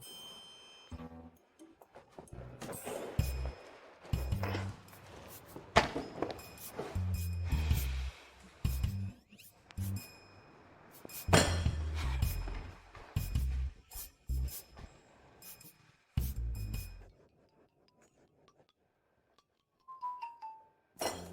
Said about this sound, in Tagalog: Lindol!